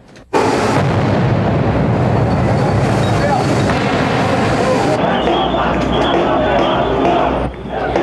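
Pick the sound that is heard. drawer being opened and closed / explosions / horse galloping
explosions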